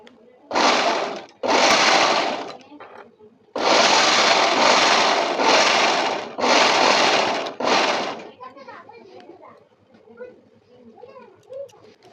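A sewing machine stitches blouse fabric for a princess-cut blouse in loud whirring bursts, first two short runs and then a longer run broken by brief pauses, before falling quiet with faint rustling.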